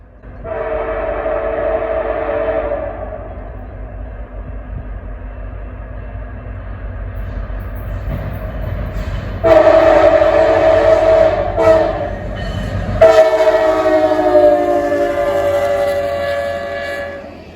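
An office car special train with railroad executives rumbles past at speed through Worthington, Ohio, in winter with a loud, steady roar, its horn sounding in long blasts near the start, middle and end.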